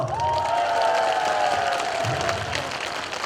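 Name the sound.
audience applause and cheering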